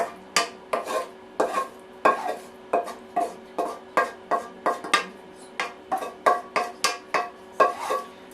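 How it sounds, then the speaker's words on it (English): A spoon scrapes and stirs a thick nut roast mixture in a bowl, about twenty regular, close strokes in a steady rhythm with no talking. "Give it a good stir"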